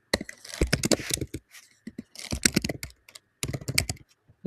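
Keys clack in quick irregular bursts on a computer keyboard, close and fairly loud, with short pauses between runs of typing.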